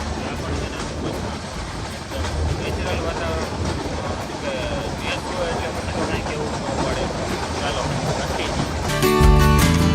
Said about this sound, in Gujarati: આગળ અહીંયા હમણાં ટ્રેન ઊભી રહી જાય